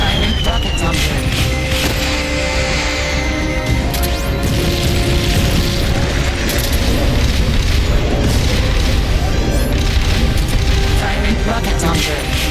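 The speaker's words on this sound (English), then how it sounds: "Firing rockets on board." Rockets fire aboard a craft in Metal Gear Solid Peace Walker: dense, loud booming and mechanical clatter run unbroken throughout, with crashing bursts over a rumbling low end.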